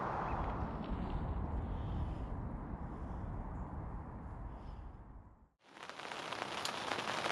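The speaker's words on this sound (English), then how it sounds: "no signs, but the rain has arrived" Steady heavy rain pours at night beside a carp lake on a winter syndicate fishing trip, a dense continuous hiss and patter close by, briefly dipping near the end before resuming just as loud.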